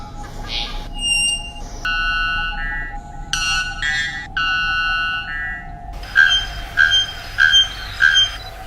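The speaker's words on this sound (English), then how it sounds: "The bellbird." Bellbird call: a series of loud, pure metallic tones, some held and some stepped, with a sharp whistled note early on and rapid bright repeated notes near the end, over a faint low background hum.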